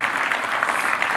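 A crowd at the Tata Sierra launch event claps steadily, a brief, dense wash of applause.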